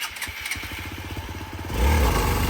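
An off-road motorcycle on a trail near Vagamon revs its engine, a close, loud rhythmic putter building into a stronger sustained roar as the throttle opens.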